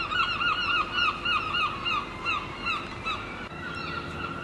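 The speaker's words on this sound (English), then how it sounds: "I hear the birds, and they're everywhere." Many birds call repeatedly, their chirps and cries overlapping at a moderate distance over a steady wash of water or wind noise.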